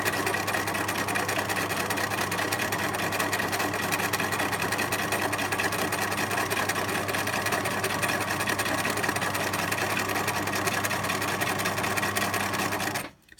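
A sewing machine stitching a seam on a pencil case, running as a fast, steady mechanical whirr with a rapid needle rhythm for most of the time before stopping abruptly at the end.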